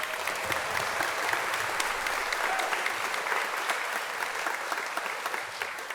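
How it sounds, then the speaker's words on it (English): At a 2023 graduation commencement, the audience gives a sustained round of applause for the graduates' families and friends. The clapping is dense and steady throughout, with only faint crowd murmur. "You can give them a round of applause as well."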